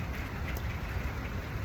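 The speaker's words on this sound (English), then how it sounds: "It's raining." Rain falls steadily outdoors during an outdoor burpee workout, a dense, even hiss of drops with a low rumble beneath, moderately loud and unbroken, with no talk.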